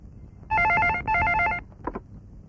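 A telephone bell rings loudly in two bursts, followed by a brief fainter clatter, with no speech over it, in an indoor home scene from a Bengali film.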